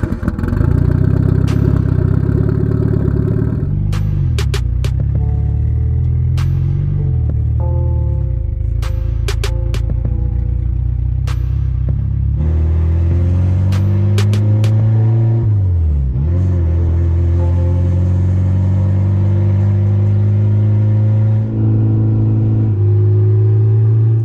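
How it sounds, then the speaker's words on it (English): Mitsubishi Evo turbo car cruising under light boost, its engine droning steadily with rising and falling revs through gear changes, a loud continuous close-up cabin sound with no talking. "go on a little drive in the Evo and see what my AFRs are under a little bit of boost and just cruising around"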